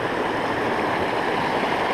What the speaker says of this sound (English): So we're at the confluence of these two creeks.